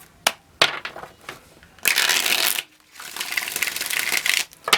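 Tarot cards are shuffled by hand in quick bursts of riffling and sliding, sharp flicks followed by longer rustling runs, close and crisp with brief pauses between.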